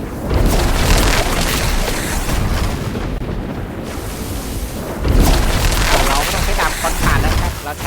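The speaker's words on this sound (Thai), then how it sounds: "แรงอยู่นะครับพายุพายุไฟฟ้านะโอ้โหใช้ได้เลยนะครับ" Lightning storm skill cast in the Roblox game Elemental Dungeons, a loud, dense crackling rumble of booming bursts that fills the scene, dipping briefly midway before surging again.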